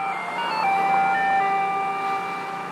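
Mr. Chili Freeze's ice cream truck plays its tinkling electronic jingle while driving by in Kissimmee, Florida, a clear, fairly loud melody of sustained bell-like tones.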